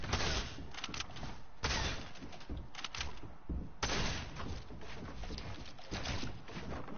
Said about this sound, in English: I'm using a hunting rifle